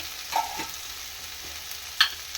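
Masala frying in a pan with mint and coriander added gives a soft, steady sizzle, with a couple of light clinks and stirring scrapes.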